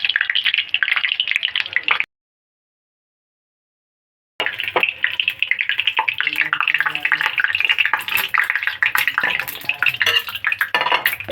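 Egg-battered eggplant fritters (dim beguni) frying in oil make a dense, continuous crackle and sizzle with scattered spatter pops, close and fairly loud. The sound breaks off into a couple of seconds of silence, then resumes.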